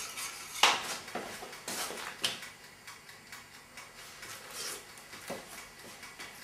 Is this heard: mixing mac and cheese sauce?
yes